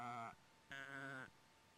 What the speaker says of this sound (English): I'm fairly sure those sheep were just a guy saying, Baa.